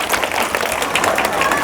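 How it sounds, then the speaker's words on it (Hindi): Students and guests clap at a school result ceremony, a close, uneven patter of hand claps from a small crowd that keeps going throughout. "चलिए ताली बजाइए जी इनके लिए"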